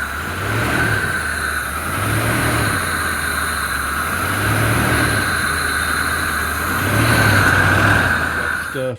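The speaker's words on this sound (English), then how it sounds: "Rev it up." A tuned-up 1993 Ford F150 engine revs steadily near the microphone, rising and falling in a slow repeating pattern of roughly four swells under a constant whine.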